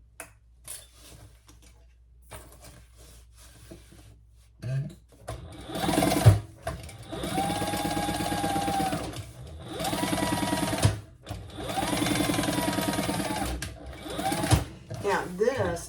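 Sewing machine basting waterproof canvas for a crossbody bag: several bursts of rapid mechanical stitching chatter, close and fairly loud, separated by short pauses, with quiet handling noises and some talk before the first run.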